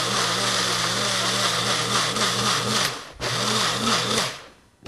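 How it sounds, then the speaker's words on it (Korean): A kitchen blender or handheld mixer grinds fresh strawberries with freshly squeezed lemon juice for a strawberry mousse, a loud, close motor whir with a wobbling pitch that briefly dips midway and winds down at the end. "곱게 갈아주세요. 믹서기 사용하셔도 되고"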